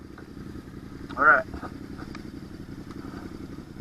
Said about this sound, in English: Oh man, I forgot how loud this bike is.